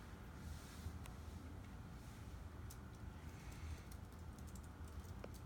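Computer keyboard and mouse clicks tapped intermittently while trying to finalize a room booking online, faint sharp clicks scattered over a steady low background hum, no voices.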